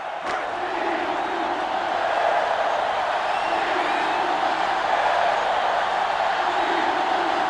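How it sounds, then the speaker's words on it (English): A stadium crowd in the video game NCAA Football 2005 roars in a sustained, dense wall of cheering that swells slightly, with a commentator's voice faintly underneath. "So this crowd is making their presence felt."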